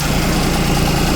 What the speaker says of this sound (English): My tractor hadn't been started today, so I'll have to let it warm up here just a second.